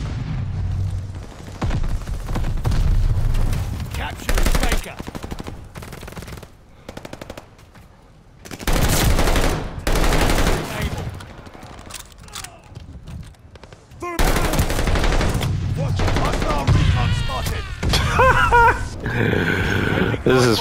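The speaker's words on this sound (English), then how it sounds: "Allies calling a mortar barrage." Bursts of automatic gunfire, grenade blasts and a mortar barrage in a video game, loud and repeated in clusters with short gaps, with the heaviest barrage near the end and voices speaking over the action.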